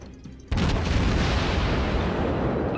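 Ship cannons firing in the naval video game World of Warships: a sudden loud boom that breaks in after a quieter moment and then rolls on as a broad sustained rumble.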